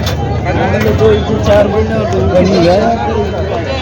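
Several goats and kids bleat close by with wavering cries, overlapping amid a busy crowd murmur and nearby chatter at a goat market in Vasmat, Hingoli, Maharashtra.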